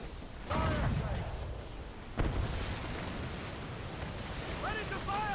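Ship cannons fire during a naval battle in the video game Assassin's Creed Rogue: two heavy booms sound over constant wind and sea noise, with faint cries scattered through.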